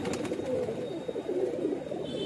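A magpie pigeon coos in low, repeated murmurs, moderately close and fairly quiet, over a steady background hum.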